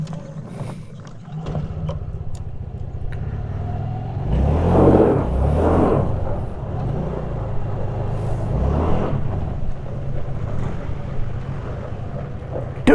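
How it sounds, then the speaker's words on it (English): A motor scooter does burnouts on soft gravel, its small engine revving up and down in repeated loud surges with rumbling and a rattly mechanical edge, heard close with no talking. "Doing burnouts."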